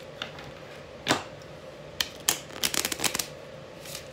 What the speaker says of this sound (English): It shuffles really well